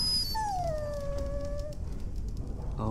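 In the castle of the video game Dragon Age Origins, a dog gives a single drawn-out whimpering whine, a thin falling tone over steady background ambience.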